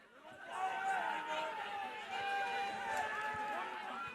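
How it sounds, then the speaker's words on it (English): Crowd noise at a college softball game between Oklahoma and San Diego State: a swelling mix of cheers and chatter with pitched shouts rising and falling, fairly distant. "Crowd starting to get loud again."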